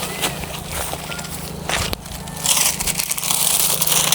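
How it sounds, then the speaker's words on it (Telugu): A chisel scrapes the cut top of a date palm trunk to tap toddy in a palm grove. Rough, close scraping strokes are broken by a sharp crack midway, then continue as a denser, louder grating with no talking. "ఉలి పెట్టిన తర్వాత మెల్లమెల్ల గీకిన కొద్దీ ఇట్లా పడుతుంది."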